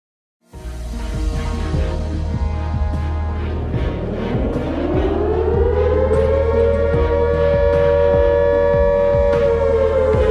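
A civil defense siren sounds the 'Attention everyone' warning signal. It starts abruptly after a short silence, then rises slowly into a loud, steady wail with a low throbbing hum beneath, holding its pitch to the end.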